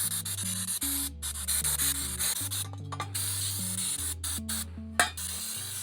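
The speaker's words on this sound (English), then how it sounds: "So I'm actually just gonna put some brake cleaner on it just to help clear off some of the dust and crust that I've put on it." Brake cleaner hisses loudly from a spray can onto the metal of a CRV sunroof part, a near, continuous spray with brief breaks.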